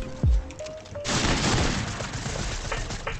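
Gunfire from the battle royale video game Fortnite: a loud blast burst opens, followed by a sustained crackling spray of shots that trails off over a few seconds.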